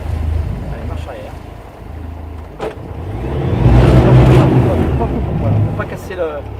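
A sailboat's engine runs in reverse during a docking manoeuvre, a steady low drone that swells louder midway through, with wind buffeting the microphone and people talking over it.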